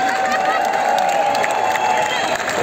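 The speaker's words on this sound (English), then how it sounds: "So applause." Festival audience cheering and clapping for dancers from Burgas, a sustained dense crowd roar with scattered whoops, loud and steady, with a steady tone beneath and a voice mixed in.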